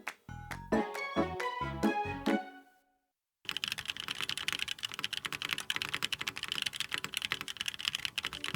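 Typing on a Pixelspace Shadow80 mechanical keyboard with an FR4 plate and no foam, steady rapid clacking keystrokes close up after a short musical intro and a pause.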